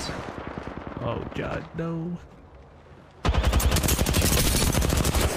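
Video game gunfire, scattered shots and a voice early on, then a loud, dense stretch of rapid automatic fire close by that lasts to the end.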